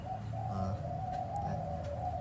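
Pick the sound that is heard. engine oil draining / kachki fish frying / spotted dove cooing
spotted dove cooing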